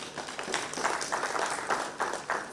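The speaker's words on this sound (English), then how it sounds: "a round of applause for ourselves" Scattered, uneven clapping from a conference audience in Nigeria, fairly distant and soft, continuing steadily throughout.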